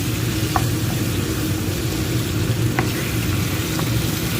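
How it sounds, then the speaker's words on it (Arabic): Chicken and flour sizzling and frying in a pan as they are stirred together, a steady close hiss with occasional scraping clicks of the spoon against the pan. "ونبقاو كنحركو في هذا الطحين حتى يتحمر مع هاد الدجاج كامل ويتلبس"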